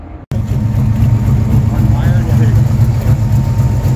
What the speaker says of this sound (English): You could also hear like the million-dollar sports cars in the background here.